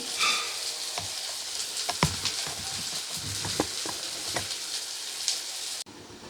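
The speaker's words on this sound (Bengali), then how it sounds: "পেঁয়াজ রসুন লঙ্কা একসাথে খুব ভালো করে ভেজে নিয়েছি।" Onion, garlic and chili fry together in a pan for a Bengali dried-fish curry, a continuous close sizzle dotted with stirring clicks and taps, cutting off abruptly near the end, with no talking.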